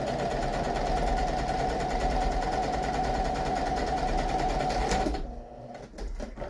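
A sewing machine runs a second parallel row of stitching along a flat seam, a fast steady whirring hum that cuts off near the end, followed by a few faint handling sounds.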